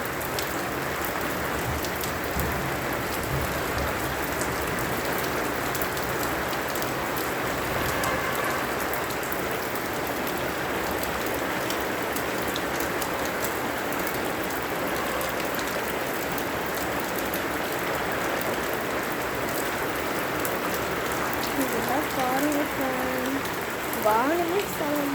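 Heavy rain pours steadily as a constant dense hiss with water dripping and trickling, unbroken for the whole stretch at moderate level, with no talk heard.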